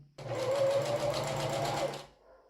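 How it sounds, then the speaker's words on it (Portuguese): A sewing machine runs a double topstitch on a swimwear racerback bra, a single close burst of fast, steady stitching lasting about two seconds before stopping abruptly. "Vou fazer um pesponto duplo, deixando então cada sobrinha aqui da costura para um lado"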